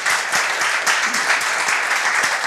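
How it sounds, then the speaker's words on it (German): Steady applause from a crowd, dense clapping filling the whole stretch with slight swells, no voices standing out. "bitte eine Runde Applaus"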